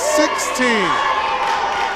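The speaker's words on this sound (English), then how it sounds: "The Blue Jay crowd not happy with that call" Blue Jay fans at a college volleyball match against Illinois Wesleyan let out a burst of disapproving shouts and falling boos that fade into a murmuring crowd, with voices talking over them.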